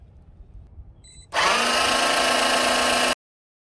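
A 12V 5-ton electric car jack motor whines loudly and steadily as it lowers, starting abruptly after a faint click and cutting off cleanly under two seconds later, close and alone.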